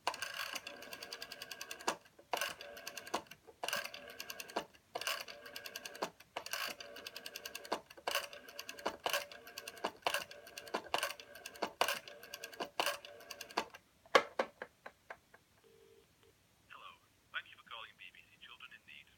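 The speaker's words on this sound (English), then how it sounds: "So I'll dial out for you to show you it works" Repeated mechanical clicking bursts in a regular rhythm as a 1969 GPO 746 rotary desk telephone dial spins back, followed by quieter clicks and brief tones near the end.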